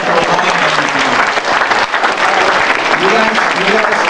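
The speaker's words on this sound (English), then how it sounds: "Can everybody give a round of applause" A room full of people at a fraternity-style roll call event applaud, dense steady clapping close by for the whole stretch, with some voices mixed in.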